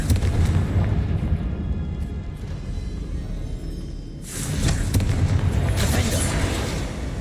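A fiery Confringo spell explodes in the video game Hogwarts Legacy, a sustained booming roar that dips briefly and then surges again, loud and close.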